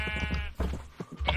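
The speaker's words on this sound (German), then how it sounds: "Okay, du hast ein paar Schafe bei dir." Sheep bleat close by on a farm, a couple of wavering calls in quick succession, loud and clear with no talking.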